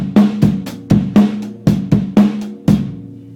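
Drumset beat opening on a single bass drum hit, then a steady groove of punchy kick and snare strokes with cymbal wash, played close and loud in an even repeating pattern with no talking.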